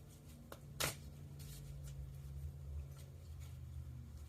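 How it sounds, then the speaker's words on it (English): Tarot cards shuffled by hand during a monthly Leo reading: soft papery riffles and taps, with one sharper snap of cards near the start, close and fairly quiet over a steady low hum. "I'm going to shuffle"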